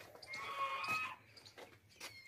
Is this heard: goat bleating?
yes